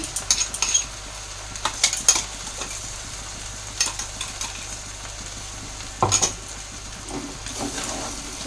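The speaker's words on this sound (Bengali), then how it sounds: "এগুলোকে ভালো করে মিক্স করে তারপরে আমি জল দিয়ে দেবো" Raw ginger, green chili and tomato paste stirred in a pan for khichuri, soft sizzle beneath scattered metallic scrapes and taps of the spoon, no talk.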